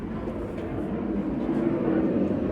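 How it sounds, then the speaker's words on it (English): An airplane passes overhead as a loud, broad low rumble that holds steady and swells slightly, with no voices. "Another plane."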